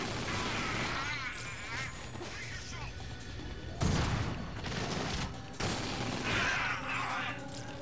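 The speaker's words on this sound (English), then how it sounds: "A shotgun!" Shotgun blasts and crashing impacts from the video game GoldenEye: Rogue Agent, loud and dense, with a heavy burst near the middle over a busy game soundscape.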